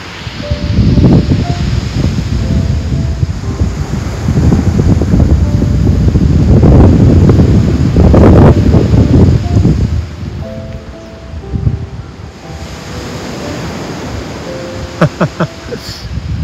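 Ocean waves washing onto a sandy beach at a Hamasaka campground in Hyogo, Japan, a broad rushing surf swelling and receding at close range, mixed with wind buffeting and a few faint tonal sounds near the end.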